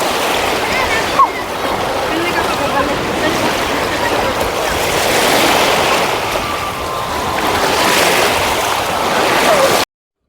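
Waves wash steadily across the brimming KRS dam backwater, a broad continuous surge of water with wind noise, loud and close throughout, while faint voices sit underneath.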